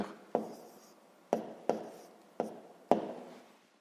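A pen taps and scratches on paper as a math solution is written out by hand, five or six sharp close strokes with short decaying scratches between them.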